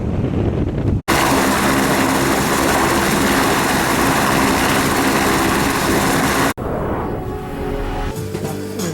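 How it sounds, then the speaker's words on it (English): A sightseeing helicopter that films aerial shots for Survivor runs nearby, a loud steady engine and rotor roar filling most of the stretch, cut off abruptly at both ends. "A helicopter ride sightseeing tour of the helicopter that does all of the shots, aerial shots on Survivor."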